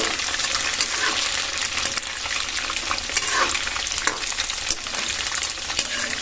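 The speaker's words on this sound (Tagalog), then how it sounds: "At atin na pong haluin ng kaunti." Adobong kangkong with tofu frying in very hot oil, stirred in the pan, giving a steady close crackling sizzle with scraping stir noises throughout, no talk.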